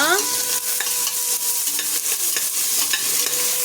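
Onions sautéing in a pan for tomato biryani, with a steady oily sizzle and repeated scraping stirs of a spoon against the pan, close and fairly loud, with no talking.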